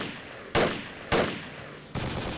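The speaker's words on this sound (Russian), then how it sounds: "О, пулемет откуда-то." Three heavy gunshot blasts of machine gun fire in the military shooter game Project Reality, spaced about half a second apart, each with a sharp attack and a long booming tail, the last merging into sustained rattling fire.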